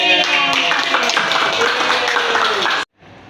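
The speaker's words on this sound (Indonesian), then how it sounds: "Tepuk tangan dong." Children in a classroom clap together in quick uneven bursts with voices and chatter mixed in, ending abruptly.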